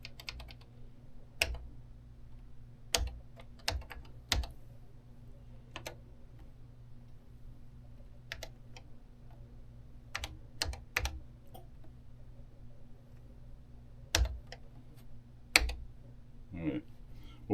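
Sparse keystrokes on a vintage Tandy TRS-80 computer keyboard, irregular single clicks and short bursts spaced across a quiet room with a low steady hum underneath.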